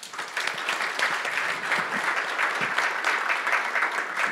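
Audience applause at a government cybersecurity conference panel, a steady, dense round of clapping from a full room, loud and continuous throughout with no voices over it.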